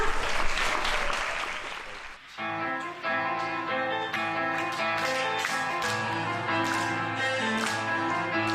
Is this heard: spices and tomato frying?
no